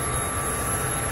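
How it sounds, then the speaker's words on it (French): Airliners landing at an airport produce a steady, loud roar of jet engines close by, a continuous wash of broadband noise with no voices. "On est à la première loge des avions qui atterrissent"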